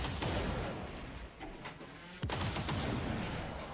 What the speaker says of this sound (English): I always love it when they just shoot the corpse.